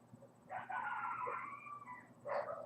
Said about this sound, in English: I don't know if you guys can hear those dogs barking